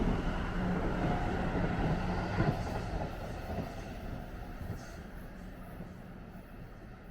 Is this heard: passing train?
yes